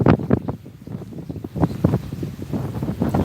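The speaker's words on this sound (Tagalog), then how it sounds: "Kusog ang hangin." Strong typhoon wind at the Ozamis anchorage buffets the microphone in loud, irregular gusts and thumps.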